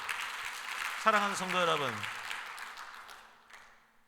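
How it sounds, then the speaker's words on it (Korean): Congregation applause in a church service spreads as a broad wash of clapping, carrying over a preacher's voice and gradually thinning toward the end. "하나님께 영광의 박수."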